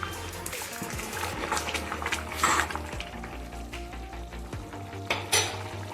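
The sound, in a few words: stirring mint rice in a pan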